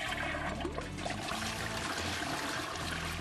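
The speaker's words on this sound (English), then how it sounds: "Now that flush was quiet." A Niagara Stealth high-efficiency toilet flushes with a steady, moderate rush and trickle of water, heard close and continuous without talk.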